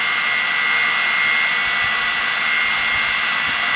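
Motors on a JJRC X9P drone spin steadily nearby, producing a loud continuous high-pitched whine and airy rush with a prominent tonal hum, a few low bumps beneath.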